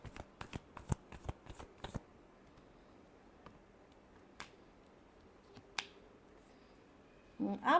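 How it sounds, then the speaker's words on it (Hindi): Tarot cards being shuffled by hand, a rapid burst of crisp riffling slaps for about two seconds, then a few isolated soft card flicks and taps, close and quiet with no talking. "Last shuffle."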